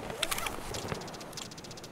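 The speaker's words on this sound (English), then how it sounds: "So I wonder if you can shoot that pigeon out of the sky" A pigeon coos faintly in the Escape From Tarkov video game, soft repeated calls over a low, steady outdoor ambience with scattered light clicks and rustles; no speech.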